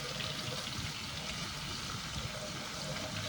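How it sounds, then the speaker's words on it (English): A water stream rinses the fine-holed screen of a Canoly C16 cold press juicer under a tap, a steady close splashing hiss throughout with no talk. "Get the water stream just where you want it."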